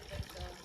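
A roadside spring water tap in Dechani filling a water container, a brief soft trickling and gushing of running water with low murmurs underneath.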